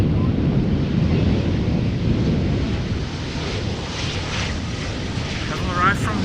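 An Embraer 190 jet of German Airways at Schiphol Airport roars steadily at a distance, a broad continuous engine rumble mixed with wind buffeting on the microphone.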